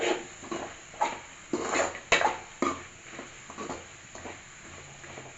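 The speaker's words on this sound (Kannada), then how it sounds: "ನಾನು ಸ್ವಲ್ಪ ಲೈಟಾಗಿ ಫ್ರೈ ಮಾಡ್ತಾಯಿದ್ದೀನಿ" A pan of egg burji with coriander leaves is lightly fried on low heat, with quiet clinks and scrapes of a spatula stirring over a faint sizzle, fairly soft and without talk.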